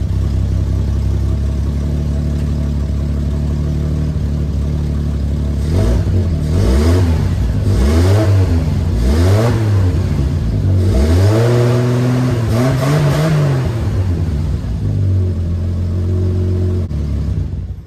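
A car engine breathes through an exhaust with a holed muffler, idling roughly before a run of repeated revs that rise and fall, then a longer climb and drop back to a loud, raspy idle. It is close up, with no voices.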